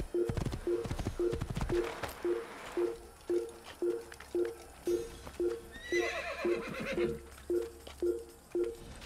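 Steady rhythmic clip-clop of hooves under Assassin's Creed game ambience, with a horse whinnying partway through; no one speaks.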